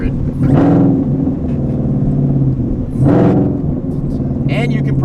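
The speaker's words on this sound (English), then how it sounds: "Let's get some spicy downshifts if I can in just a second" A Mustang GT with a homemade side-exit exhaust rumbles steadily and gives two sharp blips on downshifts, heard close up under someone talking.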